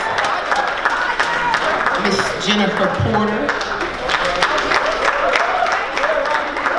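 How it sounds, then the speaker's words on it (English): Steady audience applause welcomes panelists at a conference panel. The clapping runs throughout at close range while a voice speaks over it. "Give him a round of applause."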